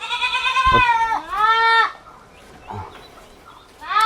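An adult Totapuri goat bleats loudly twice in quick succession, close by, on a goat farm, with faint farmyard background noise and another brief bleat starting at the end.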